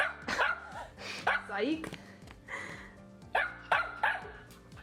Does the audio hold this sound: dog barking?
yes